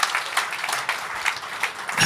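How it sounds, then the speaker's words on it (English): Applause from an audience at a talk, a dense, steady patter of many hands clapping at moderate level for about two seconds, with no voices over it. "Can I get a big round of applause if you think this is amazing?"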